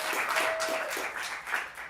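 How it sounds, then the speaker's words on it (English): Audience applause for comedian Mike Schreiber at a Portland comedy theater showcase, a steady wash of clapping from a crowd that holds for the whole stretch without any talk. "Give Mike a round of applause."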